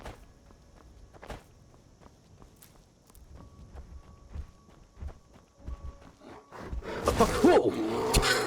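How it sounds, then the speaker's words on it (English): Bears stomp around in the Skyrim video game, making faint, scattered heavy thuds that build toward a louder, rushing burst of noise at the end. "what's that stomping sound?"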